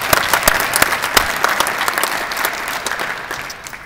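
Audience applause at a Pike Township and Zionsville fire department class graduation ceremony: a dense burst of clapping from a crowd that slowly fades over a few seconds, with no talk over it.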